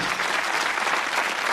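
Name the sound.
studio audience cheering and applauding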